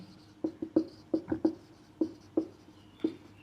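Writing on a board during a science lesson, a close series of short, crisp scratching strokes in an irregular rhythm, about a dozen distinct marks over a few seconds with no talk.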